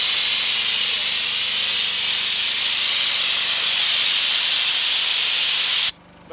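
Air compressor running at a patio build site, giving a loud, steady hiss that stops abruptly near the end, with no talking.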